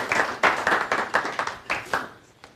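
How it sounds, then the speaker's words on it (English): An audience at a live show applauds a speaker, a burst of clapping in uneven waves that fades out after a couple of seconds. "You should clap for her."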